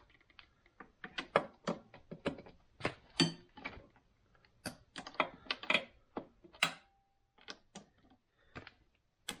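A ratchet loosens bolts on a 1998 Suzuki RM125 motorcycle, giving close, crisp bursts of rapid clicking in irregular spurts with short quiet gaps between strokes.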